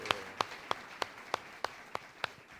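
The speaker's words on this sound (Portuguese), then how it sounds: "Com palmas ao Senhor." A church congregation claps in praise, eight sharp, evenly spaced claps landing about every third of a second in a slow unison beat, close and fairly quiet over soft room noise.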